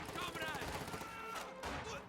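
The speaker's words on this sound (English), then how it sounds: "that was a pretty nasty conscript volley" Rifle volley from conscript infantry in a World War II strategy game, a quick burst of overlapping gunshots and crackling fire, quiet and mixed with other battle sounds.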